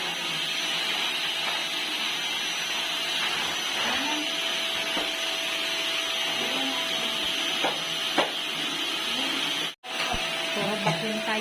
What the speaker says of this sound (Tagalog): First time ko magamit yung vacuum.